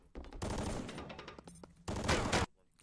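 Bursts of gunfire from an audio-only first-person zombie shooter for blind players, Swamp, come in two loud, dense volleys, the first longer with ragged shots and the second a short intense stretch, then a sudden cutoff.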